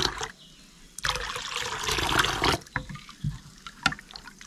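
Water is poured a little at a time into ghavane rice flour batter, giving a soft trickling and splashing pour that peaks briefly and then breaks into scattered faint drips and clinks; no one speaks.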